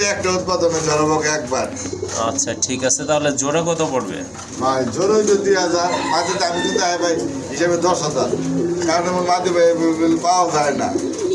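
Pink-beaked pigeons at a pigeon sale coo under steady, close conversation that runs nearly throughout.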